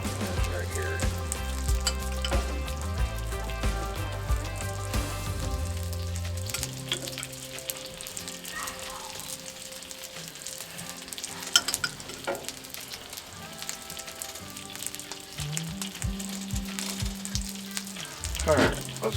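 Bacon mushroom melt frying on a Blackstone flat-top griddle, a steady close sizzle running under background music with occasional scraping clicks.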